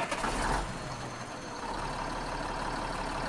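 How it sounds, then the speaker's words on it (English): Tractor engine in Farming Simulator 19 starts up and settles into a steady low diesel rumble, with a louder burst at the start. "Start the engine."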